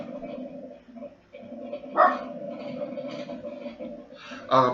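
A dog barks a few times close by, sharp yaps punctuating a low murmur of background sound.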